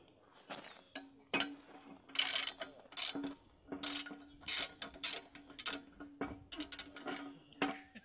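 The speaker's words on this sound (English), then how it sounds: "Go ahead and loosen up the other side here." A wrench ratchets as bolts are loosened on a steel shooting target, with a quick series of metallic clicks and rasps, fairly quiet and close, with no speech.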